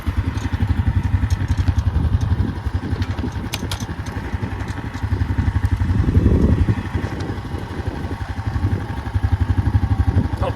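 A Honda Rubicon four-wheeler engine runs close by on a working ranch, a steady rapid thumping idle with clattering and a brief rise in revs midway; no voices.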